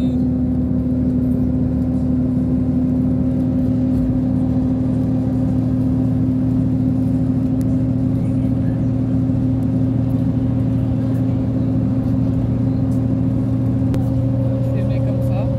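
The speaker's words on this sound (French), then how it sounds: "Là, on roule sur un grand pont." Car driving over a large bridge at Saint-Denis on Réunion island, heard from inside as a steady, loud engine and road hum with constant low drone throughout, no distinct passes or changes.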